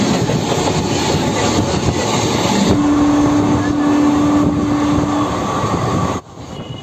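The Malda Intercity Express runs after leaving Howrah Junction with a loud, close, continuous rumble and rattle of carriages and a sustained tonal hum midway. The noise drops sharply near the end.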